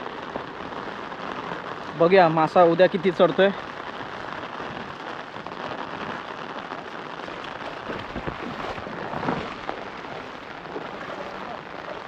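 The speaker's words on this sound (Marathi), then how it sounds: "पाऊस पण आला" Rain falls steadily outdoors near a river, a soft continuous patter throughout, while someone speaks briefly over it early on.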